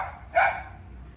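A single sharp bark from a dog at a house in Chirayinkeezhu, a short nearby burst over low background rumble.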